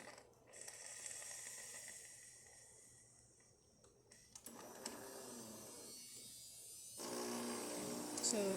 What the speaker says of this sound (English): now I'm gonna just pull a shot and we'll see that the machine is working